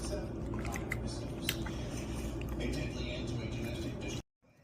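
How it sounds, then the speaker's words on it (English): Jackfruit seeds being washed by hand in salted ice water, with continuous splashing and squishing of water, close and busy, cut off abruptly at the end. "get some ice water with little salt in there and wash my jackfruit"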